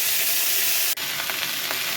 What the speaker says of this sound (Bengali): তেলের মধ্যে একটু ফোড়ন দিয়ে দিয়েছি